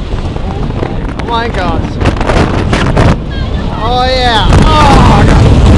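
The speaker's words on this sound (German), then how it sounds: "es ist windig!" Strong wind roars and buffets loudly against riders on the Nessie roller coaster at Hansa Park, a constant rushing blast under excited shouts and exclamations from the passengers.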